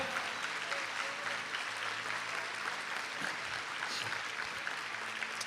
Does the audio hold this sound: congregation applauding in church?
yes